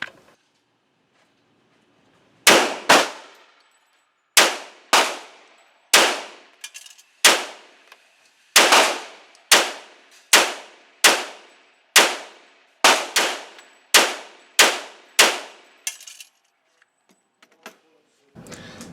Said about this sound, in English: this quick demonstration of the gun under recoil